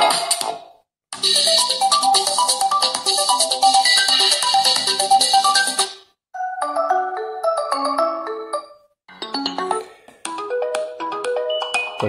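A bright electronic ringtone from a TCL 10 Plus smartphone plays loud and clear, several melodic snippets separated by short pauses, with no voices.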